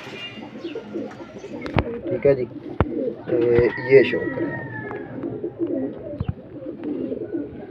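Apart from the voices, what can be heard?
Teddy flying pigeons cooing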